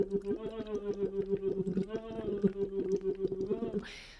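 Lax vox tube voice exercise: a voice hums through a tube into water, broken into a steady run of small rhythmic accents, close and continuous, ending with a brief bubbling splash.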